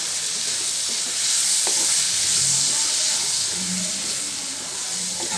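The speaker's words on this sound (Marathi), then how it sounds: "चांगला परतून घ्यायचा, थोडासा नरम होईपर्यंत आपण, थोडा शिजेपर्यंत आपण याला थोडं हलवत राहायचं।" Finely chopped tomato sautéing in a pan for Malvani clam masala, a steady close sizzle and frying hiss with soft stirring scrapes of a spoon throughout.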